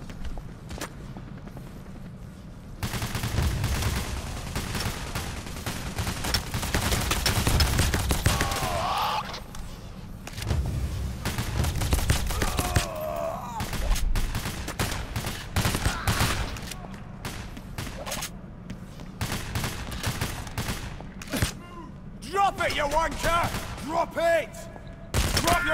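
Video game robbery shootout with repeated bursts of gunfire and rapid volleys at varying distance, plus footsteps, running through the whole stretch under intermittent talk from players.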